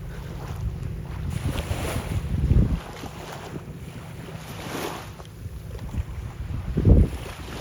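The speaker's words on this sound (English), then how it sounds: "Enjoy the little things, like the sound of the ocean." Waves wash in at Ambleside Beach with low surges against steady wind rumble, two heavier swells breaking nearby amid open-water ambience, no voices.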